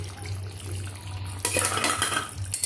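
Paneer stirred into a cauliflower curry in a pan: scraping and clinking of a spoon against the pan, quieter at first, then louder stirring from midway with brief metallic knocks, over a steady low hum.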